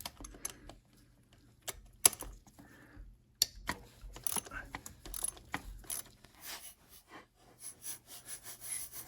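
A wrench works a bolt loose on the oil cooler of a 2008-or-newer W211 Mercedes E350, giving sparse sharp metallic clicks and ratcheting taps, close and fairly quiet, with no talking.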